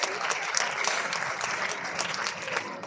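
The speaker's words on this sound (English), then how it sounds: "he deserves a very huge round of applause" An audience at a school ceremony gives a round of applause, with many hands clapping steadily at moderate volume, a few sharper claps standing out, and no talk on top.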